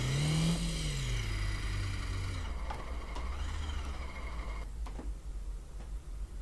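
Car engine revving in the City Car Driving video game, played on a Logitech G29 wheel, a steady mid-pitched drone that rises and falls in pitch early on, then holds loud and constant with a few faint clicks.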